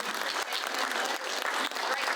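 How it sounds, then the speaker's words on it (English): An audience at a community health talk bursts into loud, sustained applause, a dense wash of clapping that holds for the whole moment. "let's give a big round of applause"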